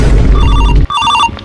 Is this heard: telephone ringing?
yes